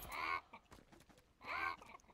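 Chickens in a battle royale game cluck in two short, faint bursts about a second apart, with quieter scratchy sounds between them.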